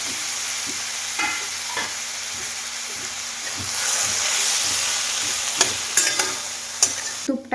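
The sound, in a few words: grated amla frying and stirred in ghee in steel kadai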